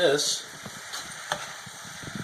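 Browned meat is tossed and stirred into herbed vegetables in a hot pan, giving a faint, steady sizzle with soft scraping and stirring touches, following a brief louder clatter at the start.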